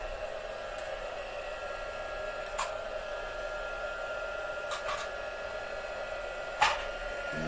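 A heat gun runs with a steady, airy blowing whir that holds at a constant level throughout, with a few faint clicks and taps over the drone and no talk.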